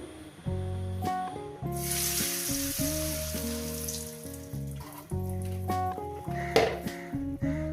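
Hot oil sizzles in a pan ready for rohu fish curry, a soft hissing crackle that swells for a few seconds beneath steady background music, with no one speaking.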